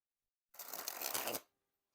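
A fresh, never-shuffled deck of Iron Spades playing cards by Roxley Games is sprung from hand to hand in one continuous, dense riffling burst of about a second, close and crisp, with no talking.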